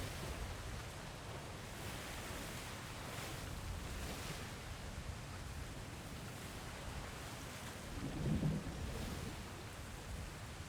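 Rain falling steadily as a broad, even hiss throughout, with a low rumble swelling briefly near the end; no voices.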